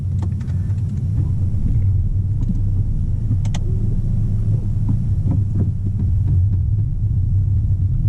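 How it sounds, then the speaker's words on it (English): Low steady engine rumble and road drone of a car driving, heard from inside the cabin, with occasional faint clicks and rattles over the continuous hum. "so let's go for a quick drive"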